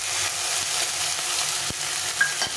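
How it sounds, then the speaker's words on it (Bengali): Ground spice paste sizzles and fries in a pan while a fish curry cooks, a steady close hiss with a few soft stirring knocks. "তো মশলাটা এখানে কষিয়ে কষাবো।"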